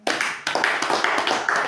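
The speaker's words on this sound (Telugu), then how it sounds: "చప్పట్లు కొట్టండి" Audience clapping at a Telugu Christian family prayer gathering: a short burst of dense, bright handclaps from a group, fairly close and steady for under two seconds with no talk over it.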